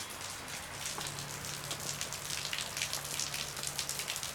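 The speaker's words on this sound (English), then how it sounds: "I wanted to show you guys some of the heavy rain we got." Heavy rain pours down outdoors on a sloped residential road, a dense, continuous hiss of drops with a faint low hum underneath.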